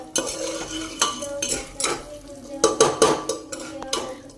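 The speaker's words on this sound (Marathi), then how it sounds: "आता मी एवढं टाकले ना आणि घ्यायचं असं परतून असं परतून घ्यायचं" Corn kernels are stir-fried in a pan, with repeated scraping and metallic clinks of a spatula against the pan in an irregular rhythm, close and fairly loud.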